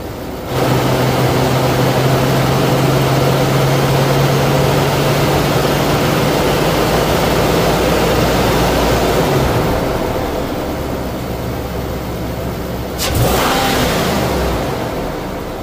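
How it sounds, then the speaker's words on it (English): A car engine held at raised RPM during an air-fuel ratio sensor test, a steady loud drone with a sustained tone, easing slightly later before a quick throttle rise near the end; no talking. "We're gonna raise the RPMs and see if there's a change"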